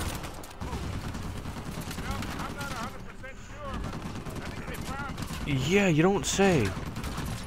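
Rapid gunfire bursts in Uncharted 4, with shots rattling moderately loud under speech and wailing tones from the game's soundtrack.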